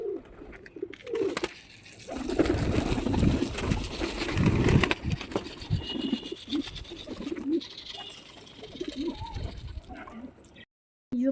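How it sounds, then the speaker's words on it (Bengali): Pigeons peck at scattered feed in a loft, with soft cooing and a busy rustle of wings and feet that are close and moderately loud, and the stretch quiets briefly near the end. "যে পায়রাগুলো সব খাচ্ছে দেখো"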